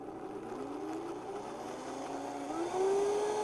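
A blender whirs through charred green onions for a Caesar dressing, its motor whine climbing steadily in pitch as it spins up, with no voices.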